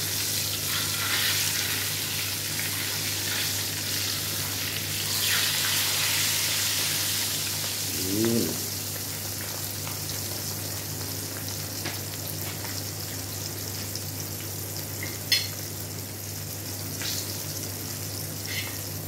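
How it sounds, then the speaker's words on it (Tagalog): Dried fish (tuyo) fries in a pan with a steady crackling sizzle throughout, joined by some scraping and stirring sounds and a few sharp clicks, close and fairly loud. "At yung pinipritong tuyo,"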